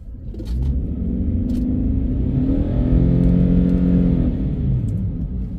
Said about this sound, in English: got me to the town driving speed in a hurry with a bit of engine noise